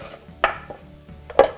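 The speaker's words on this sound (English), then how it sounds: "To this I'm going to add roughly 4 large florets of cauliflower which I have grated" Grated cauliflower tipped into a hot pan and stirred, two quick clattering scrapes with a faint sizzle between them, short and close.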